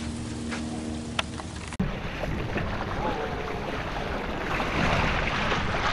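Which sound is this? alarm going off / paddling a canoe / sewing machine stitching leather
paddling a canoe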